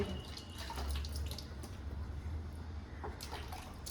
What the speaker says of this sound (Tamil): மறுபடியும் தண்ணி ஊற்றி